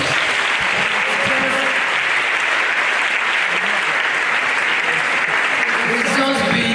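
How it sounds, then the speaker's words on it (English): A university audience gives a sustained round of applause after an inaugural lecture, many hands clapping in a thick, even roar while a voice speaks over it. "I really think we should please give another round of applause."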